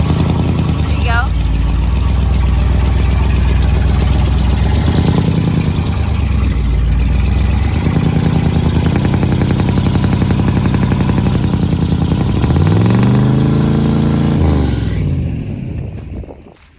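A big block engine in an abandoned RV idles high with a stuck throttle, a loud continuous rumble with rising and falling revs, while people talk over it near the end before it fades.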